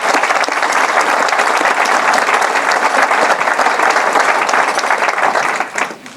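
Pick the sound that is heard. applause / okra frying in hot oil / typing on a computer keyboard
applause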